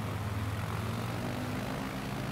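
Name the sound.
airplane engine at full power in video game Microsoft Flight Simulator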